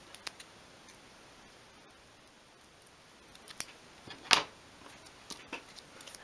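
Scissors cutting out a simple paper template: a few faint snips, then a short burst of sharper, louder cuts near the middle, followed by scattered light snips in an otherwise quiet room.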